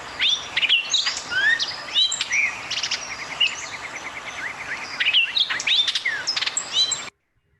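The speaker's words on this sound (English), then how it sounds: "This is the adult male hooded oriole." A rapid, jumbled song of an adult male hooded oriole: chattering, whistled and buzzy notes, including a quick trilled run, continuous for about seven seconds before stopping abruptly.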